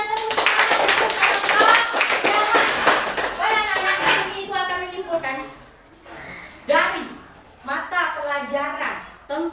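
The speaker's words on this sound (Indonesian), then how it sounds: "kita tepuk tangan untuk kiamat" A group claps hands during an Indonesian-language religious talk, dense rhythmic claps over the first few seconds and then fading, with someone speaking over and after them.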